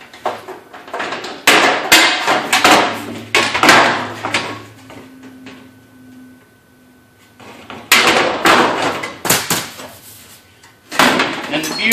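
Aviation snips cut through 0.032 aluminum sheet in clusters of sharp crunching snips, several quick cuts at a time separated by quiet pauses.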